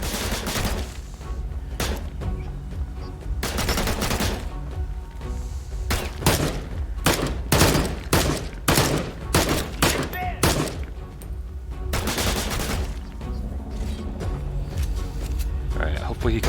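Gunfire from the VR shooter Immortal Legacy rattles in repeated bursts and single loud shots throughout, mixed with a player talking over the action.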